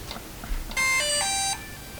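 A DJI Mavic Mini drone plays its power-on chime when switched on, a short tuneful sequence of electronic tones lasting under a second, close and clear, with no talk.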